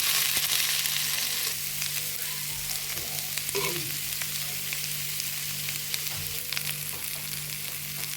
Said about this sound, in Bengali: এখন আমি সবগুলি উপকরণ ভালোভাবে ভেজে নিচ্ছি।